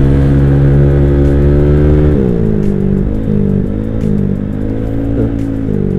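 Bored-up Honda Vario motorcycle engine running on Pertamax Turbo, a loud close steady idle with a rich low harmonic drone that drops pitch after two seconds and then rises and falls in several small revs, no talk.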